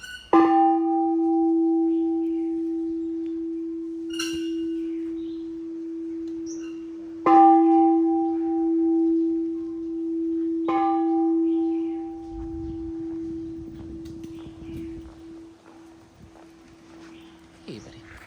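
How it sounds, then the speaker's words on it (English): Temple gong at Wat San Pa Yang Luang in Lamphun, Thailand, struck four times at uneven intervals, each a loud metallic hit followed by a long sustained humming ring, with faint rustling near the end. "Let me gong the gong."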